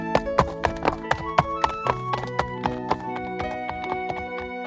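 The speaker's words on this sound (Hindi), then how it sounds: "घोड़े ने समय से पहले ही रथ के पास पहुँच जाता है" A horse gallops to a chariot, its hooves clopping close and sharp in a quick, uneven rhythm, sounding alone.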